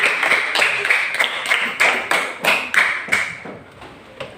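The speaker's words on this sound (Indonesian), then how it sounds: "tepuk tangan untuk temannya Gunawan." A group of classmates claps in unison for a fellow student at a school gathering, about eight crisp, close, evenly spaced beats that gradually slow and trail off.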